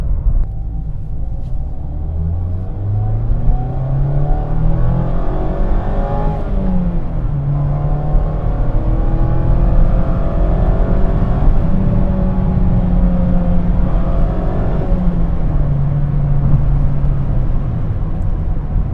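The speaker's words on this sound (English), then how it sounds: "that incredible 2-liter naturally aspirated 4-cylinder engine producing 181 horsepower" The 2-liter naturally aspirated four-cylinder engine of a 2024 Mazda MX-5 Miata hums and revs steadily, its pitch rising and falling through gear changes, loud and close with no talking.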